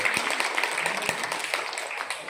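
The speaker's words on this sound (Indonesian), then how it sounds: "Tepuk tangan buat Badan POM." Audience applause, a fairly faint, steady patter of many hands clapping with a few sharper individual claps standing out.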